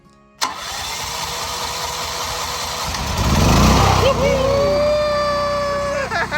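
A Westinghouse 12,500-watt tri-fuel portable generator running on propane, natural gas or gasoline starts abruptly and settles into a loud, steady engine drone close by. The pitch rises partway through, with a whining tone near the end.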